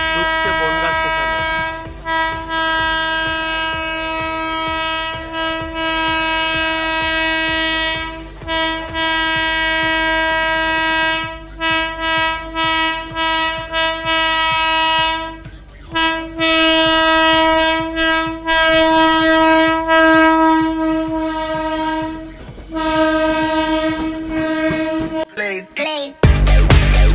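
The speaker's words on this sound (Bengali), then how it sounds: "রানাঘাট শিয়ালদা এসি লোকাল 33-762 ঢুকছে বনগাঁ স্টেশনে।" A Ranaghat–Sealdah AC local electric train pulls into Bongaon station, its loud horn blaring in long repeated blasts over rumbling wheels and carriages, ending with a clattering roar close by.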